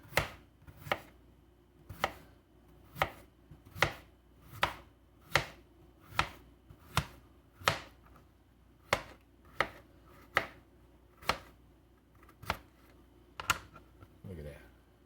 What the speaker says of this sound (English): And you want to slice the potatoes